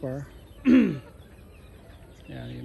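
Turkeys call close by in a few short warbling bursts with a louder gobbling cry in the middle, separated by quiet stretches.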